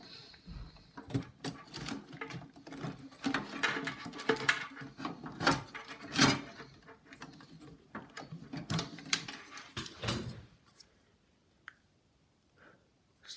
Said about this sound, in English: Just gonna take out these screws.